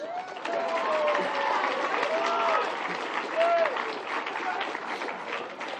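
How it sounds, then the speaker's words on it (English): Audience applause at a Kihei Charter High School graduation ceremony, a steady crowd clapping with some cheering voices, continuing throughout at moderate level. "Clap, please."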